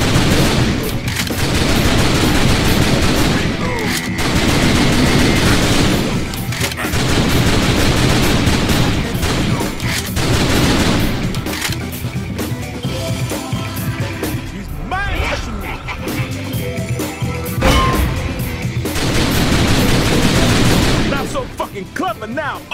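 Gunfire in the arcade-style zombie shooter House of the Dead Overkill: dense, loud, near-continuous volleys of shots sweep on and off in waves, mixed with crashes and game noise, with voices talking over parts of it.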